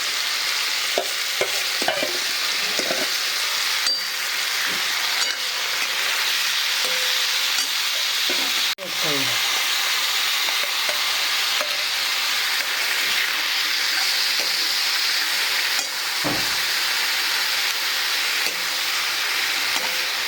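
Cabbage and spring onion greens being stir-fried for Manchurian, a steady close sizzle and hiss with occasional scraping stir strokes, no talk.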